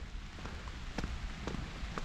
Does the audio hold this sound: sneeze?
no